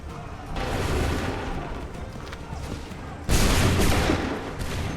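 Massed musket volleys crack out in Assassin's Creed III, a dense rolling fusillade of overlapping shots, with a louder, sharper burst of fire erupting partway through and ringing on to the end.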